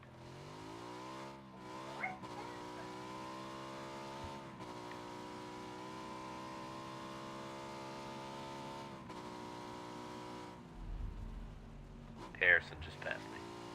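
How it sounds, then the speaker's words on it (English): A buggy's engine in a battle royale video game drones steadily with a harmonic whine, shifting pitch as it drives, with quieter game noises and a few sharp sounds near the end. "I hear a doom buggy."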